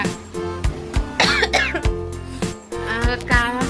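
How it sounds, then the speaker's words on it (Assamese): Someone coughs repeatedly, in several hoarse bursts spread across the moment, close and fairly loud, with a bit of throat clearing and background music. "কাহ হৈ আছে যিহেতু"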